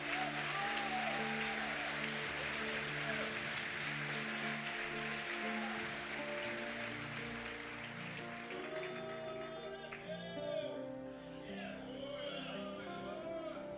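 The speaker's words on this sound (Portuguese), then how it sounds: "pode aplaudir o nome do Senhor aí" A church congregation applauds during an evening worship service, a steady wash of clapping that fills the room from the start and slowly thins toward the end, with some voices and musical tones running underneath.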